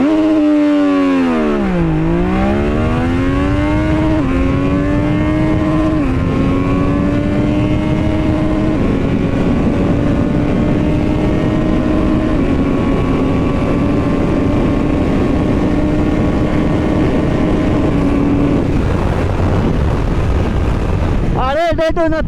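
A Triumph Daytona 660 motorcycle pulls hard through the gears, engine pitch dipping and climbing in repeated sweeps, then holding a long rising whine over heavy wind rush before a sudden cut.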